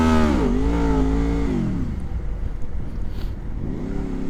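A Honda VFR motorcycle engine revs hard and close, its pitch climbing and dipping before settling to a rough idle, then revving again at the end.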